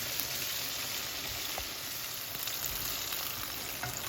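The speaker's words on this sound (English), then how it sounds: "I'm going to let these fry and I'll be back" Chicken pieces coated in flour and potato starch fry in hot oil for a General Tso dish, giving a steady, dense sizzle with faint crackles and pops throughout, close and even with no voices.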